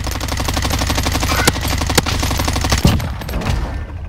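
Rapid automatic gunfire in a first-person shooter match, a dense continuous burst of shots with a few sharper louder cracks, heard close and loud with no talking.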